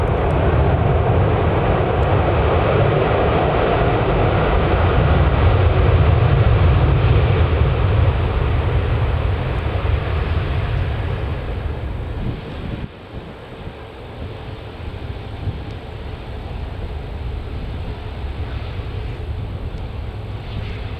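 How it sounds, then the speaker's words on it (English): A 13-year-old Virgin Atlantic Airbus A330-300 landing at Manchester Airport after a flight from Atlanta gives a loud, steady jet roar with deep rumble, peaking early, dipping briefly midway, then continuing somewhat quieter amid wind buffeting, with no talk. "landing now is a Virgin Atlantic Airbus A330-300 arriving from Atlanta"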